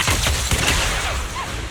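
Gunshots in Zenless Zone Zero snap out in a quick, loud flurry of combat blasts layered with game effects over a short stretch.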